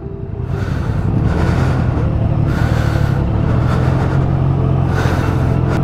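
A new Triumph Speed Twin motorcycle pulling away on its first ride, the engine a steady, continuous rumbling drone that builds quickly and holds, close and fairly loud, with no talk.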